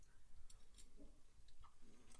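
Crunchy chilaquiles topped with avocado being chewed close to the mic, with several quick crisp bites and crunches in irregular rhythm, fairly faint and with no talking.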